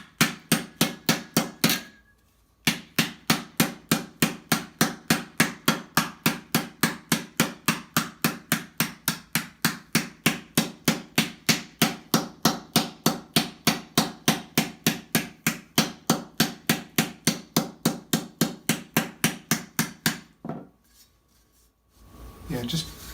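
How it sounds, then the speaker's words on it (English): A metal armor plate for faulds is hammered into a curve with a long, steady run of sharp, evenly paced ringing blows, close and loud, stopping briefly near the start and again near the end. "just by basically hammering is kind of giving it a nice curve to it as well"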